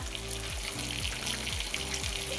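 Green chillies frying in butter in a pan for tadka: a steady, close sizzle with a soft watery hiss, continuous and without speech, over a repeating low hum pattern.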